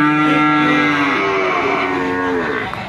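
A four-month-old calf moos loudly and steadily in a long continuous call close by, with no talking.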